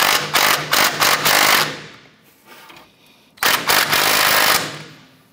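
A bolt on the upper control arm mounting bracket of a 1994-2004 Chevrolet S10 is driven tight in two loud, close bursts of rapid rattling hammering, separated by a quieter pause.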